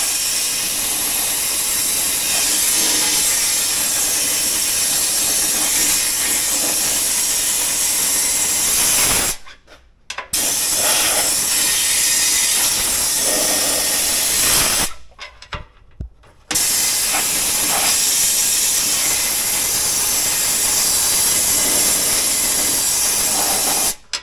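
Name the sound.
long nozzle sprayer spraying WoolWax undercoating on F150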